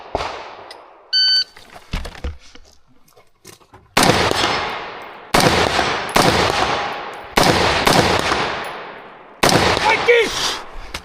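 Sharp gunshots ring out at a weekly shooting-range competition, four or five loud cracks spaced about a second apart with decaying echoes, preceded by a short electronic beep, a few quieter shots and a range officer's spoken commands.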